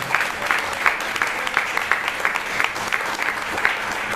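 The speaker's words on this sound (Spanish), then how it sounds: "Que valga la pena este aplauso para el Señor." A church congregation applauds during a Spanish-language evangelistic sermon, a steady, loud wash of clapping with a faintly rhythmic pulse running through all four seconds and no speech over it.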